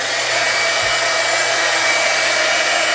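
A heat embossing tool blows hot air steadily and loudly at close range, a constant whirring hum of the kind made by a hair dryer, while powder is embossed on a 3x3 notecard.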